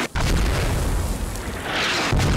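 Mortar shells burst in the tactical shooter Squad as heavy, rumbling booms close by, one blast rolling into the next with a deep lingering roar.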